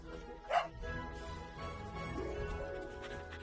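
A dog in an animated film barks a single short yip, followed by a low whimpering, with the music and ambience of the soundtrack beneath it.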